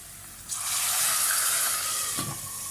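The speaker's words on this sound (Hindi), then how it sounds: "पहले मैं इसमें थोड़ा सा पानी डालूँगी" Water splashes into a pan of golden fried chicken for a chicken and chickpea gravy, setting off a sudden loud hiss that swells and holds for about two seconds before easing back.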